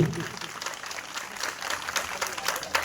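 An audience at a Janmashtami celebration claps steadily for a few seconds, a dense patter of many hands at moderate loudness, with some voices underneath.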